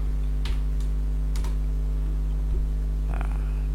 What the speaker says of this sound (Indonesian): Katakanlah saya ketik sejarah.